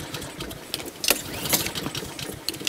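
A petrol lawnmower engine running out of fuel sputters unevenly, with irregular coughs and rattling bursts over a rough, faltering drone at close range, with no talking.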